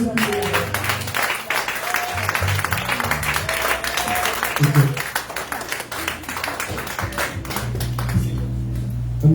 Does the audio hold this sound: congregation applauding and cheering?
yes